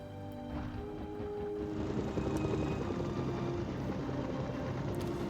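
An MD-530 Scout helicopter in the game Mercenaries: Playground of Destruction, a steady rotor thrum and engine whine that swells slightly louder after the first couple of seconds, heard alone without voices.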